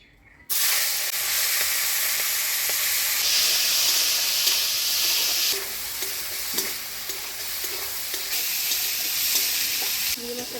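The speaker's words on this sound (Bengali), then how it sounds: "এবার মাছটা ভাজি নিব।" Prawns fry in hot oil in a kadai for a jackfruit and prawn curry, giving a loud, steady sizzle and hiss close by, with small clicks and scrapes from stirring.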